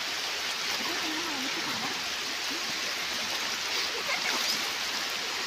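Floodwater rushes down a swollen stream after heavy rain, a constant broad hiss and gurgle without pause, close and even in level.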